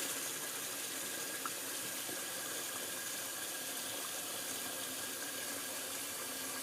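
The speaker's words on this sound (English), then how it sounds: "Sorry about the water. I just want to refill a little bit of my sink." Tap water runs steadily into a bathroom sink being refilled during a wet shave, a constant close hiss of flow with no talking.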